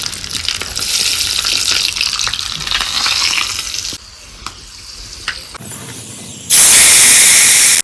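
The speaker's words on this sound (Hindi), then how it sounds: "उसके बाद ये तड़का लगाएंगे" Tempering spices crackle and sizzle in hot oil for kadhi, a busy, close frying sound with a few clinks and a harsh burst of hissing at the end.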